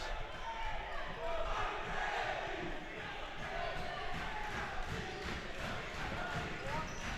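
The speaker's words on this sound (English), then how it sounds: "Hear the crowd chanting along." Crowd at a boys prep championship basketball game chanting in a packed gym, a dense continuous roar of voices under an announcer's commentary.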